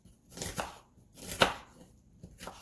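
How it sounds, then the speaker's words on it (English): An onion being sliced into half-moons with a knife for a vegetable stir fry: four crisp, separate cutting strokes on a board with short quiet gaps between them. "now I'm just slicing the onion in half moves"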